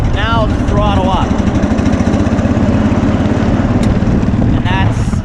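A Cub Cadet 128 lawn tractor runs steadily up close with its mower deck engaged, the engine note loud and continuous as it throttles up, with a brief voice over it at the start.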